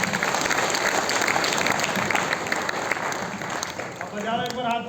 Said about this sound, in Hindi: जोरदार तालियां मिस्टर योगेंद्र नागर